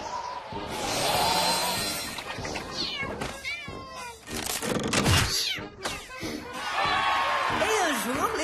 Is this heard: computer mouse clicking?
no